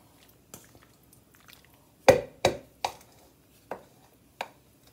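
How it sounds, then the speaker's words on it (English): A spoon working through tuna pasta salad in a bowl gives soft, wet squishing thuds, a handful of separate strokes in an irregular rhythm, close and otherwise quiet. "I'm going to stir it up really well"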